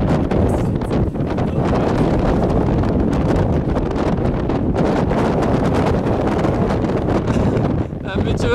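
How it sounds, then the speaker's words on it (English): Strong wind buffets the microphone at Balanced Rock in Arches National Park, a loud, continuous roar with gusty rustling that fills the whole stretch, with faint voices underneath. "Een beetje wind"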